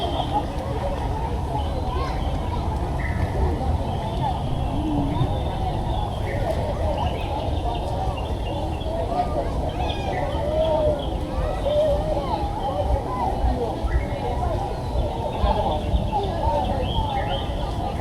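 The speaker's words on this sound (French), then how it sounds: "les bruits des animaux, des oiseaux." Bird calls and animal sounds piped through an immersive Disney water park, a steady bed of chirps and tweets over a constant low ambient rumble, with people chatting in the background.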